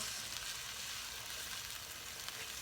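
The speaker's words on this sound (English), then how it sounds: "I'm adding the celery, the jalapeno, and the orange pepper now. I'm kind of stir that around." Celery, jalapeno and orange pepper frying in a pan for a vegetable hash, a quiet, even sizzle that runs steadily throughout with no talk.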